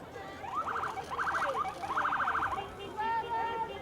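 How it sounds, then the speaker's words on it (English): A police siren on an older police cruiser yelps in several short warbling bursts, fairly close, with faint crowd noise underneath at a Santa Claus parade. "I always love it when the police cars come through, and there's an older cruiser here, and they sound the sirens"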